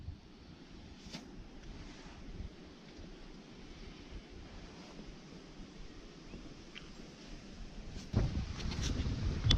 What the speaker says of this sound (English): The wind is due westerly and it's building and building